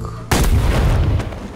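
In Shadow of the Tomb Raider, a thrown explosive is shot and detonates in one sudden, loud blast that rumbles on for about a second before a lighter crack follows.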